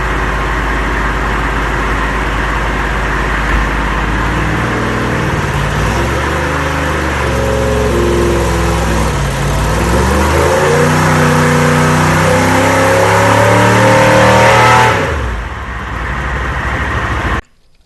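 Engine pulled on a dyno to about 4,500 RPM, a loud sustained roar whose pitch climbs and wavers through the run before cutting off sharply near the end.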